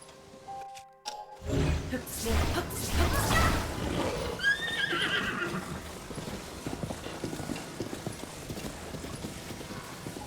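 A horse in Zelda: Tears of the Kingdom gives a clear whinny amid close clip-clop hoofbeats, with the galloping continuing steadily afterward.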